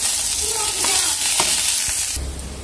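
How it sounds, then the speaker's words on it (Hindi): Garlic and ginger frying in oil in a pan for a chicken chilli fry, a close hissing sizzle with a few soft knocks, cutting off sharply near the end. "आतां न्हू हितून हें गार्लीक आनी जिंजर घाता फ्राय केलो"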